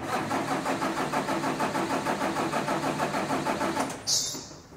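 A heavy-duty diesel engine cranks steadily on the starter during a relative compression test, its even rhythmic pulses running for about four seconds before a brief hiss at the end.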